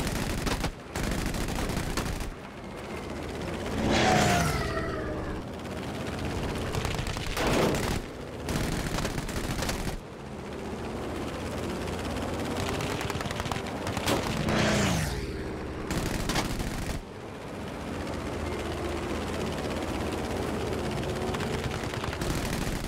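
Heavy gunfire in Battlefield V, with bursts of automatic fire and scattered single shots crackling across a busy battlefield, loud and near, with sharp gaps between volleys and sweeping whistle-like sounds overhead.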